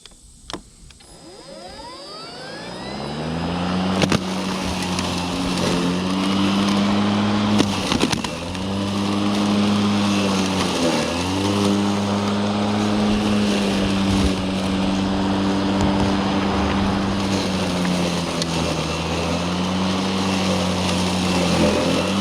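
A Kobalt 20-inch electric lawn mower runs steadily on a steep slope, a close, continuous motor hum and whine that dips briefly a few times as it works the grade.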